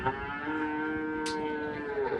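A cow at the Shymkent livestock market gives one long, steady moo, close and clear, filling the whole moment with a droning, harmonic low call.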